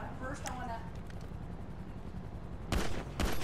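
Pistol shots ring out in a video game, with a couple of loud sharp bursts near the end under steady background noise, while players talk over the action.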